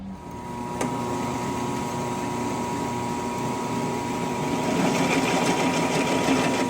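A gutter-forming machine back in operation after a factory repair, a continuous mechanical whir and hum with rattling rollers, steady and close, growing a little louder toward the end, with no talk.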